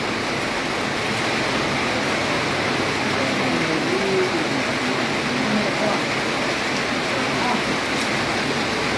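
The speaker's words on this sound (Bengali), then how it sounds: "প্রচণ্ড বৃষ্টি পড়ছে" Heavy rain pours down during a thunderstorm in Cumilla, heard from inside a shop as a dense, constant roar of water that stays close and even throughout, with faint voices underneath.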